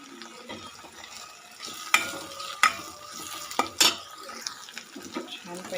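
Ginger-garlic paste and coriander fry in a kadhai, a soft sizzle under spoon stirring with a few sharp metal clinks against the pan, close and moderately quiet.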